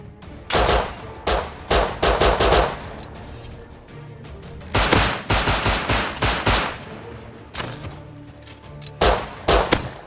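Shotgun and pistol fire erupts in Rust in several loud, rapid clusters of shots separated by brief pauses, close and harsh over faint background noise.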